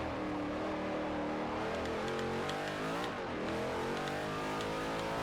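A race car engine drones steadily at high revs in Forza Motorsport 4 on a King of the Mountain hill course, its pitch rising and dipping through gear changes, close and continuous with no talk.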